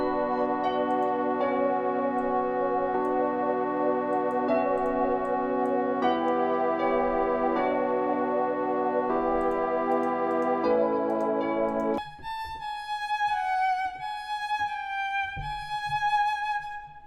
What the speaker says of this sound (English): I went ahead and added a bunch of effects to the piano